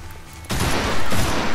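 Machine gun fire in Primal Carnage starts abruptly after a brief quiet moment. It continues as loud, close, rapid bursts through to the end.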